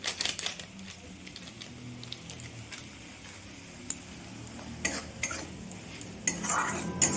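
Mushroom masala with Kashmiri chili powder is stir-fried in a pan: a quiet, steady sizzle broken by clustered clicks and scrapes of a utensil against metal, with busier bursts of stirring near the start and end.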